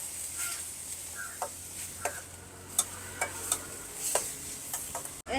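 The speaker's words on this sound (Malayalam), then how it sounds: "ഗാർലിക് പേസ്റ്റ് ഇട്ട് കൊടുക്കാം അതിവിടെ നല്ലതായിട്ട് വഴറ്റാം" Garlic paste sautés quietly in a pan while someone cooks inside a lorry, a faint soft sizzle broken by sharp clicks and taps of a utensil stirring.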